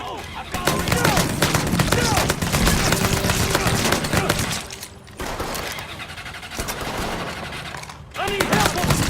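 Mafia III gunfire, dense sustained shooting with heavy bursts nearly continuous across the clip, mixed with game sound and a voice over it.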